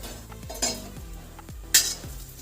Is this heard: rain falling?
no